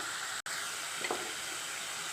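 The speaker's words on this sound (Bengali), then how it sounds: "মশলাটাকে আরও কিছুক্ষণ ভেজে নেব।" Spice paste seasoned with ground black pepper and a splash of water fries in a pan for a Kolkata-style doi katla, giving a steady close sizzle with one brief dropout near the start.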